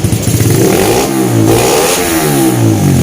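A Sonic 125 motorcycle engine revs hard up close after a major service, the pitch rising and falling as the throttle is opened and eased off, loud and continuous.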